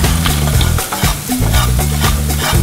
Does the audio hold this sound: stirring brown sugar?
yes